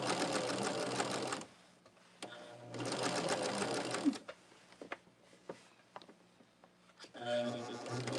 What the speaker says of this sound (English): I do a back stitch